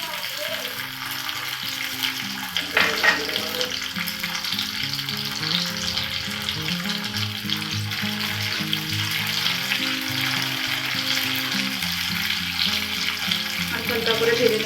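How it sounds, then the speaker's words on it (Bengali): Soaked almonds and cashews sizzle and fry in a pan for payesh, a steady crackling hiss with occasional stirring, while soft music plays in the background. "এখানে আমি ভেজে নেব।"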